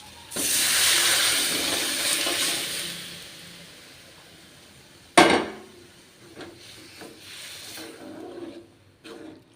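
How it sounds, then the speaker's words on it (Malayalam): A loud hissing sizzle bursts out as dal curry is poured into hot tempering oil, fading into quieter bubbling, with a sharp metallic clank midway and a few softer clinks. "ഇതിലേക്ക് പരിപ്പ് കറി ഒഴിച്ചു കൊടുക്കാം"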